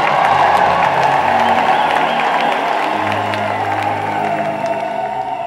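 Church congregation at a thanksgiving Mass breaks into sustained, dense applause with cheering and high ululation, loud and continuous throughout, with some voices mixed in.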